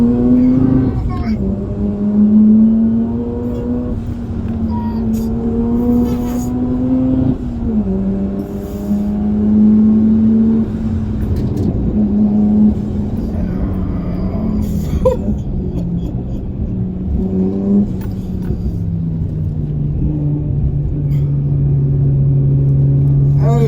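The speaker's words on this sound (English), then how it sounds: "you can hear the sucking in of that turbo" A turbocharged car engine rumbles and revs up and down continuously, with a rising whoosh of turbo intake air, while people talk over it close by.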